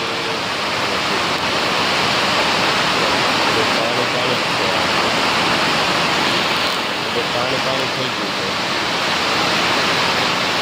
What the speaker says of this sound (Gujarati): બહુ વરસાદ પડ્યો છે